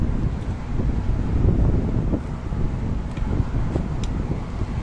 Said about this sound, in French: Il y a du vent, ça rase.